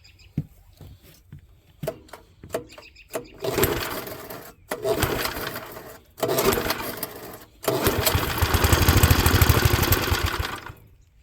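A small Troy-Bilt Horse tiller engine sputters and pops a few times, then catches and runs in rough bursts that stop and restart before settling into a louder steady chug.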